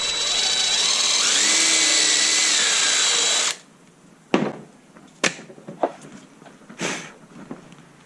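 A power drill whines loudly and steadily for about three and a half seconds while driving a screw into half-inch plywood on a school-bus bunk bed front, then cuts off, followed by a few sharp knocks and handling clatter.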